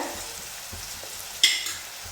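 Ingredients for a simple home-style chicken curry sizzle and fry steadily in a pan over high flame, with soft stirring scrapes and one sharper spatula clink partway through.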